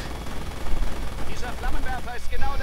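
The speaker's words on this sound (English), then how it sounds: "the HQ is getting suppressed by an MG42" MG42 machine gun fire in a multiplayer World War II shooter game, a dense continuous rattle of rapid shots mixed with distant battle noise, while people talk over it.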